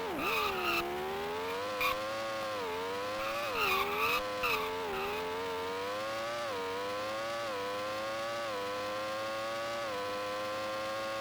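A Formula 1 car's engine in the Amiga/ST game Microprose Formula One Grand Prix, at Hockenheim, a buzzy synthesized drone rising and dipping in pitch through gear changes, with short bursts of tyre screech.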